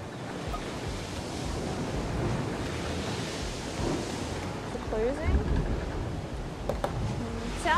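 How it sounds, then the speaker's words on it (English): A stormy island scene in a VR survival game, with continuous heavy wind and crashing surf rumbling throughout, loud and close, with a few faint tonal game sounds near the end and no speech. "Sounds like we're in a storm."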